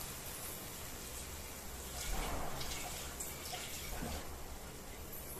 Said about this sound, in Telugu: కుక్కర్ కూడా మనం కడిగి నీళ్లు పోసుకుందామండి